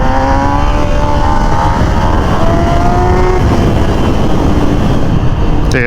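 A Suzuki GSX-R sport motorcycle with an oil-leaking, cracked starter cover screams at full power, a loud, close, continuous engine howl whose pitch climbs steadily as it revs.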